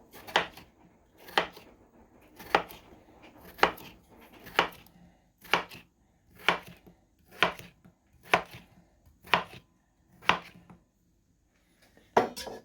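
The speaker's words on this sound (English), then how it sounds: "Start cutting them in about half an inch thick cubes, like so." Knife chopping cucumber into half-inch cubes on a cutting board, about a dozen crisp, evenly spaced chops in a steady rhythm, close and clear with no talking.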